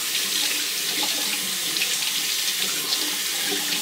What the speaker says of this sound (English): Rinse that brush out.